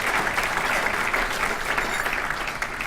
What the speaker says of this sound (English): Give all of the elected officials a big round of applause.